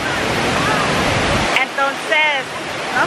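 A waterfall roars as steady broadband rushing for about a second and a half, then thins into a lighter wash while voices talk over it.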